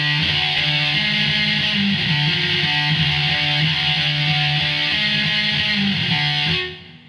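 Electric guitar playing the full distorted riff from a song, a steady chugging run of repeated notes and shifts, loud and close for about six seconds before cutting off, no talking.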